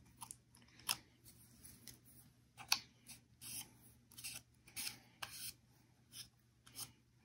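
Scissors snipping through paper petals while shaping a Valentine's paper rose around a wire stem, a string of short, crisp cuts spaced unevenly, close and fairly quiet with no talking.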